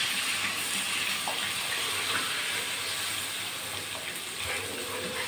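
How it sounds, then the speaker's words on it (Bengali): Water pours steadily into a pan of mustard pabda fish curry, a soft continuous rushing wash that stays even and fairly faint throughout with no talking. "এবার আমি জল দিয়ে দিচ্ছি।"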